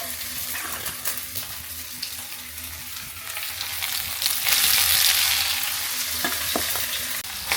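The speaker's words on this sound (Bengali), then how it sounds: "এই যে আলুগুলোকে সুন্দরভাবে এখন একটু ভেজে নেব আমরা" Mashed potatoes fry in a pan with panch phoron spices, stirred steadily so a continuous sizzle runs throughout, with scraping strokes and a brief watery splash near the end, close and fairly loud.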